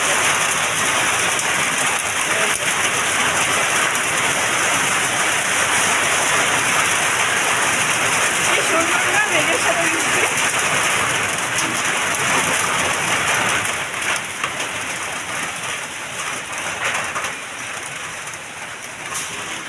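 Heavy rain pours onto a rooftop in a steady, dense hiss that holds for most of the stretch before easing slightly near the end, with no talk.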